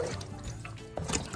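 Water trickling and splashing into a plastic trash can used as a garden water barrel, a brief soft liquid fill with small drips, fairly quiet.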